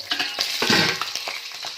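A short burst of soft-fleshed fresh fish crackling and sizzling in a pan, close up, with light stirring scrapes.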